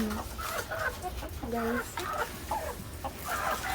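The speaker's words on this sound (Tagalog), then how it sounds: "manok tayo dyan" Farm chickens, including a white one kept for slaughter, cluck repeatedly in a backyard, close and steady, while a person speaks briefly.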